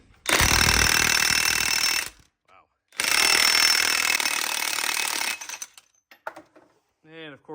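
Air impact wrench with a 3/4 to 1/2 inch adapter spinning a nut off a 62TE transmission in two loud, harsh rattling bursts, each about two seconds long, followed by a faint clink and a brief voice.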